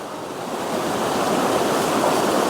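Steady broadband rush of stream water flowing where fish are being netted, a constant close wash with no voices.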